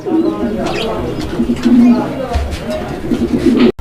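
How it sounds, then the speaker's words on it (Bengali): A pair of fancy Kashmiri barhuma pigeons coo steadily at close range in a pigeon farm, their low rolling calls repeating over a busy background with voices talking nearby. "এখানে চমৎকার আরো এক জোড়া কবুতর"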